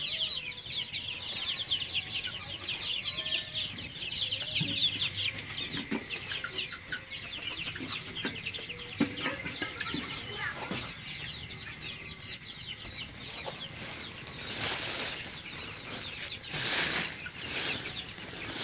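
Hens cluck repeatedly in a busy farmyard, overlapping calls near and far with occasional wing flaps and a rooster-like squawk, no talking.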